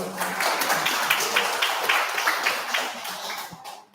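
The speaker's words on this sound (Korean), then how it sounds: "아주 오랜만에 나오셨는데 우리 큰 박수 주세요." Church congregation gives a round of applause in a worship service, moderately loud clapping with individual claps audible, tapering off toward the end.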